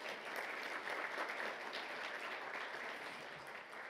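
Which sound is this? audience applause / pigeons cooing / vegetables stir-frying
audience applause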